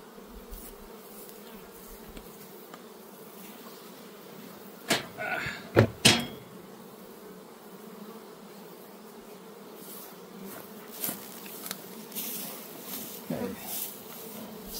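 Honeybees drone in a steady, faint buzz around a hive while a Ross Round super is being added, with a few sharp knocks and scrapes of hive equipment midway and some talk.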